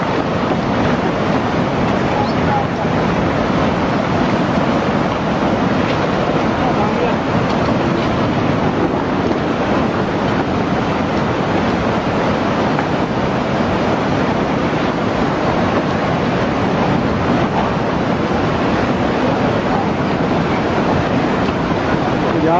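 Lengshui River floodwaters in China surging during a dam-collapse flood where a five-story concrete building fell into the river, heard as a loud, steady, broadband roar of rushing water and wind with no distinct impact and no voices.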